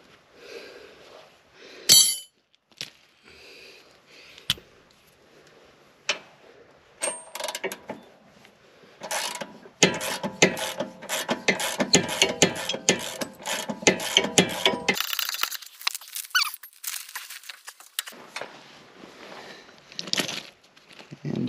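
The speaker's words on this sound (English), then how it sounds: "so we'll just have to keep ratcheting it out" Ratchet loosening the track bar nut on a Jeep JKU during a death wobble fix, with rapid clicking pawl bursts, brief pauses and metallic handling noises in between, close and fairly loud.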